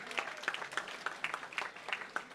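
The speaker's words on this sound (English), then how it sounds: "Thank you for that great round of applause for the artist." Audience applause for artists at a transit arts and design book launch, steady clapping from a modest crowd heard at a moderate distance, fairly quiet and even throughout.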